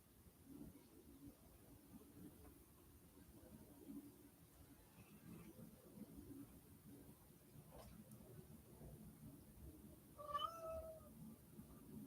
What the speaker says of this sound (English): There's a howling cat.